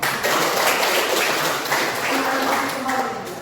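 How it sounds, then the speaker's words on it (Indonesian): Classmates applauding in a classroom, a dense, steady patter of many hands clapping together, loud and close, lasting the whole moment without a break. "Tepuk tangan teman-teman."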